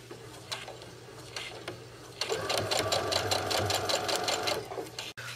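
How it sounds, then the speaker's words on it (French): A sewing machine stitches a finishing border for wall upholstery, starting with a few scattered stitches, then running in a steady fast mechanical rhythm close by, over a low background hum. "on continue de coudre"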